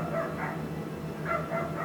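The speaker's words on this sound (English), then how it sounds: "There's a dog outside making a lot of noise." A dog barks outdoors, somewhat distant, in two quick pairs of yips separated by a short pause, with a steady low hum underneath.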